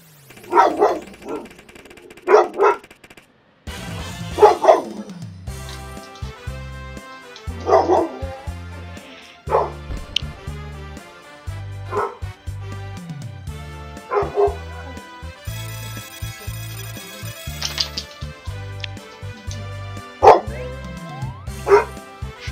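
A pet dog barks repeatedly in short yipping bursts, some close and loud, over steady electronic video game music from Pokemon Rumble on WiiWare playing in the room.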